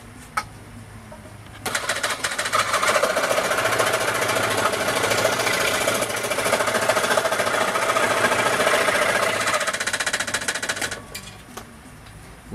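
A power tool trims a small piece off the end of a Native American flute to retune it. A loud buzzing, rattling cut runs steadily for about nine seconds, then stops, with quiet before and after.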